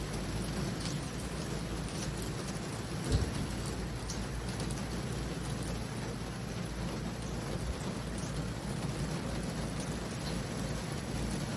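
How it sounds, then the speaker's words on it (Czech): Steady rain falls during a motorcycle ride, a constant dense hiss with a low rumble underneath and one brief soft knock, with no voices. "Tak, začalo docela slušně pršet."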